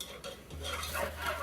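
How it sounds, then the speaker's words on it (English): A whisk works flour into a milk-based sauce in a pot, making a brief run of soft, close scraping and swishing strokes against the metal. "I want to whisk it in slowly, that way your flour doesn't clump up."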